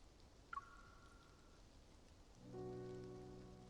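Night rain falls outside as a steady, soft hiss of patter, with gentle tonal music notes ringing over it.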